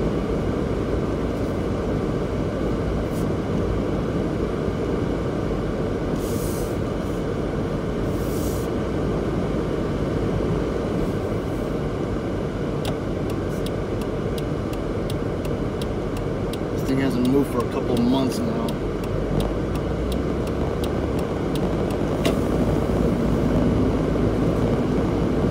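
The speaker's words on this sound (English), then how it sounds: "test driving my 1995 Toyota Hilux Surf" A 1995 Toyota 4Runner, also called the Hilux Surf, on a test drive, a steady low engine and road drone inside the cabin with a loud air-conditioning fan blowing and a voice talking over it.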